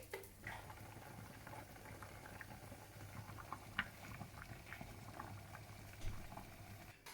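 Pumpkin soup with orange juice and freshly made homemade chicken stock simmers in a pot, a faint, steady bubbling with soft pops and patter, quiet and alone.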